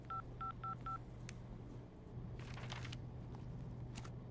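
Four quick beeping keypad tones of phone dialing, evenly spaced, followed by faint clicks and soft rustling in a quiet room.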